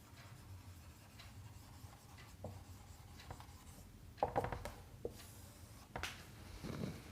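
Chalk or marker scratches across a classroom board in short, uneven strokes and taps, faint and close, with scattered pauses between the marks.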